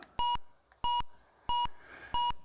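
Four evenly spaced electronic beeps from the Flipper pinball game on a Philips G7000 Videopac (Magnavox Odyssey 2) as the plunger power is set, each a short bright tone with a faint hum between.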